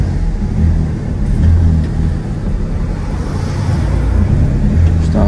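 A 2020 Lancia Y Hybrid slowly reverses away, its engine giving a steady low rumble that stays fairly loud and close throughout, with no voices.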